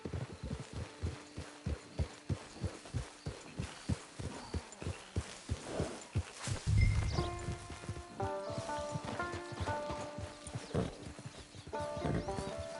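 Horse hooves clip-clop in a steady walking rhythm in Red Dead Redemption 2, clear and close, followed by a brief whinny and some game music chiming in.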